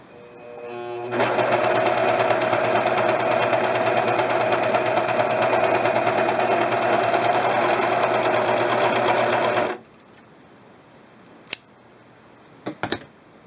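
A serger running a test stitch, a loud, fast, steady mechanical whirr for about nine seconds before stopping abruptly, followed by a few faint clicks.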